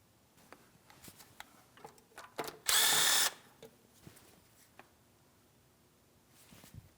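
Mounting bolt holding a plastic panel near the starter of a 2007-2014 GMC Sierra 2500 HD 6.0L V8 being removed with a 10mm socket: faint ratchet clicks and tool taps, then one loud burst of power-tool whirring lasting under a second.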